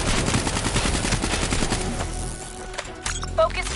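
Dense rapid automatic gunfire in a Black Ops 3 story mission, loud and sustained bursts that thin out toward the end, with a few sharper isolated shots and faint game voices underneath.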